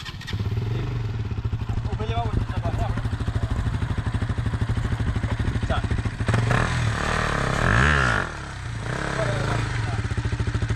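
Motorcycle engine idling steadily and close by during wheelie practice, with a couple of sharp throttle revs near the end before it settles back to a steady putter.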